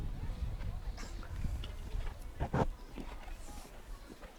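A show jumping stallion's hooves clip-clop on the course of a grand prix jump-off, soft and somewhat distant, with a few sharper footfalls under an announcer's commentary and crowd ambience.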